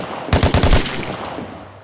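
An LMG machine gun in the Vigor video game fires a quick burst of about five loud, close shots, followed by a decaying echo tail.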